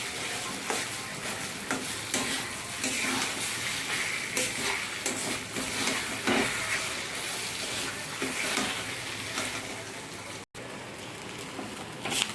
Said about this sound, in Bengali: তেল দিয়ে ভালো করে একটু এটা নেড়ে নিচ্ছি, যাতে ওই জলটা একটু মরে যায়